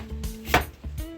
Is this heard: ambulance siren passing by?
no